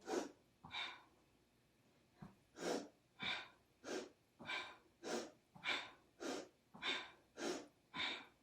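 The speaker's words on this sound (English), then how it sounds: "Powerful breath. Inhale up, exhale down." Powerful rhythmic breathing during a Kundalini yoga exercise, a dozen forceful, evenly spaced breaths pushed hard through the nose, close and loud with brief gaps between each.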